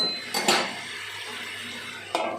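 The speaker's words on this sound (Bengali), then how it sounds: "এখন আবার একটু নেড়ে চেড়ে ঢেকে দেব" A pot of curry being stirred and then covered, giving a few sharp clinks of a metal spoon and lid against the pot, with quiet gaps between them.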